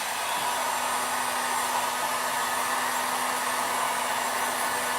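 A hair dryer blows steadily and close by, drying paint on a rubber stamp, a constant even whoosh with a faint hum and no speech.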